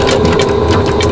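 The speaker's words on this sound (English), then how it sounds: "We will be saving to the sewing machine." A sewing machine runs steadily and loudly throughout, a close mechanical whir with a quick repeating stitch pulse, used while reworking old clothes; no one talks.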